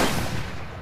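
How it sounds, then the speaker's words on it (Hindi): A single loud gunshot blast in a movie scene, a woman firing on a man, rings out with a broad burst of noise that decays over most of a second. "अब वो उसके डैड पर गोली चला देती है"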